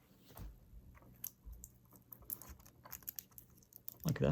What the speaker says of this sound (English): So I'm just going to put some tape on there.